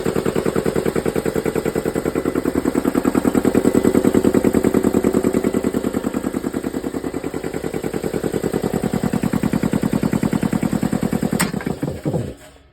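An electric-motor air compressor with freshly fitted belts and a small motor pulley driving the pump starts up and runs with a loud, fast, steady chugging pulse for several seconds, then winds down and stops.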